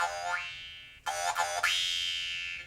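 A standard-size Dan Moi jaw harp twangs with a sustained buzzing drone whose pitch sweeps up, breaks into a few rapid rhythmic plucks midway, then resumes a long humming tone, close and clear with no speech.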